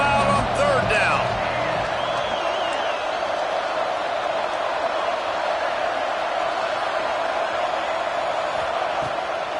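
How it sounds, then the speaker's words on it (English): Football stadium crowd at an NCAA game roaring and getting loud on third down, a sustained dense roar filling the clip, with a brief whistle-like sound at the start. "this crowd bearing down and getting loud on 3rd down"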